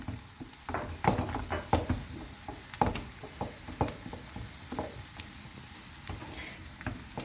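Tomato and pepper paste frying with onions in a pan, a soft continuous sizzle with scattered crackles and pops plus occasional stirring scrapes, close and moderately quiet with no talking.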